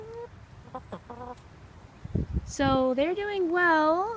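Chickens clucking and squawking close by in a garden, with someone speaking briefly in between; the calls grow louder and more continuous toward the end.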